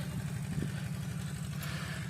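A homemade walking tractor's small engine chugs steadily at idle in a rice field, a low, even, close rumble with no talk over it.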